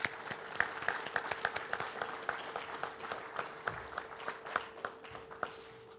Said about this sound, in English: I would like you to give our speakers a round of applause